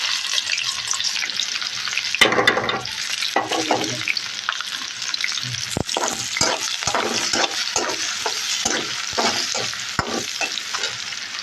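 Chopped giant taro greens with dried chillies hitting hot oil in a pan, a loud burst of sizzling followed by steady frying and repeated clattering stirs close up.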